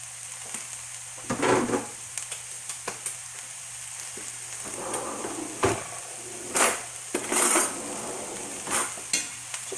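Vegetables for plant-based spring rolls sizzle in a pan on high heat as a utensil stirs and scrapes them, with clinks of metal on the pan over the steady frying hiss.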